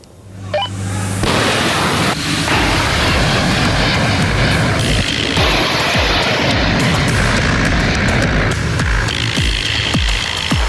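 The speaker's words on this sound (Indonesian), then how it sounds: "Jet tempur Super Hornet lepas landas dari kapal induk Amerika Serikat Abraham Lincoln" A Super Hornet fighter jet launches from the aircraft carrier USS Abraham Lincoln, a sudden loud roar that rises after a second and holds as a sustained, powerful jet-engine blast with rumbling and crackle, no speech.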